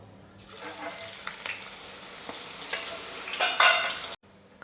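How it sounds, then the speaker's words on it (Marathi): Chopped onion dropped into hot oil for chicken dum biryani, a soft sizzle rising over a few seconds with scraping stirs and a louder crackling burst near the end before a brief cutoff. "तर तेल पण तापून झालं आहे. आता मगाशी जो आपण कांदा कापला होता तर याच्यात टाकून"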